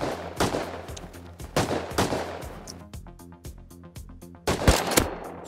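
Gunfire in Rust rings out in several loud, sharp bursts of rapid shots, broken by short pauses filled with quieter clatter.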